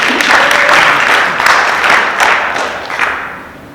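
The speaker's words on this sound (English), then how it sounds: "Go ahead, clap, I like it" An audience at a Call to Action event on the crisis in education applauds, a dense wash of clapping that swells loud and then slowly fades toward the end.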